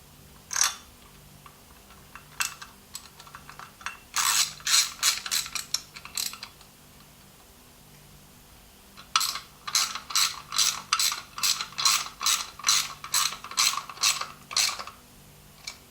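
A ratchet wrench drives an Allen key screw on the chrome engine cover of a Harley Davidson Ultra Glide, in two bursts of rapid, crisp clicking with a quiet pause between them and no speech.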